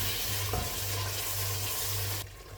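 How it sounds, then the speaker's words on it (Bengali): Ground cumin, turmeric and coriander frying and being stirred in a pan for a Bangladeshi chicken curry, giving a steady close sizzle with a low hum throughout and a brief scrape of the spoon partway. "মশলাটা ভালো করে কষিয়ে নিব।"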